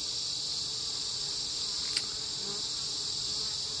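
Honey bees from a strong VSH hive hum in a steady, close drone that holds even throughout with no voices.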